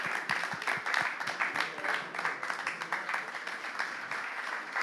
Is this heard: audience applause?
yes